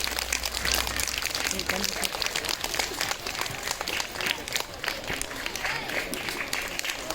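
An audience at a Hindi Diwas school function applauds to welcome a guest, producing continuous loud, dense clapping from a crowd throughout, with voices faintly mixed in beneath it.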